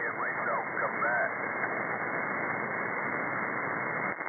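Band-limited radio static hisses steadily on CB channel 37 in lower sideband, a continuous dense wash with faint warbling tones near the start and a brief dropout just before the end.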